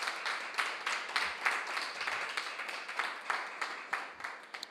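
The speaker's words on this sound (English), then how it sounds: "a final round of applause for both teams who did very well" Scattered, faint applause from a small audience for two competing teams at an event, individual claps clearly separated in an uneven rhythm, fairly distant and thin.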